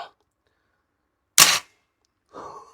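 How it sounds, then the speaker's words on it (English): A Diana 460 Magnum spring air rifle fires a pellet: one sharp, close crack with a brief metallic twang, set between quiet stretches and a short trailing sound. "There we go, firing."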